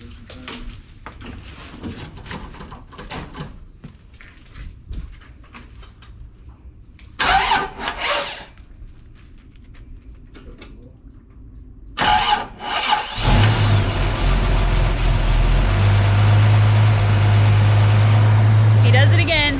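Truck engine with a gear reduction starter cranking in two brief bursts, then catching and settling into a loud, steady idle; people talk quietly before it starts.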